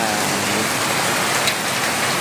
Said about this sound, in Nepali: ड्रेन भरेर पनि पानी यता आयो